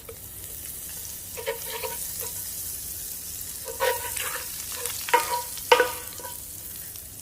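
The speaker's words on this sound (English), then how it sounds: "I'm gonna add, throughout this saute process, I'm gonna add some butter." Butter, just under a tablespoon, sizzles quietly in a preheated sauté pan, with a soft steady fry broken by several sharp clinks and scrapes of stirring that grow louder toward the end.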